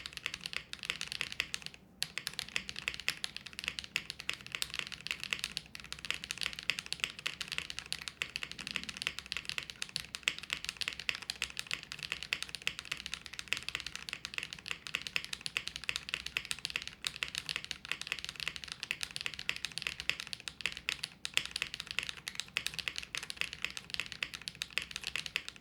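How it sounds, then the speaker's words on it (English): Continuous typing on a Zoom TKL mechanical keyboard fitted with one piece of foam: a dense, fast stream of close keystroke clicks with a brief pause near the start. "Let's see what this sounds like now with the one piece of foam"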